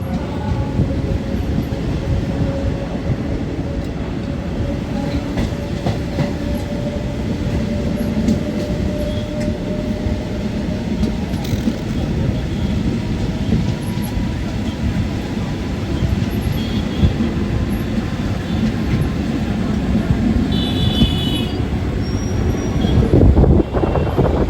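Steady rumble and rattle of a passenger train running on the rails, heard from inside near Nangal Dam and Anandpur Sahib, with continuous wheel noise, a faint squeal and a sharper clatter near the end.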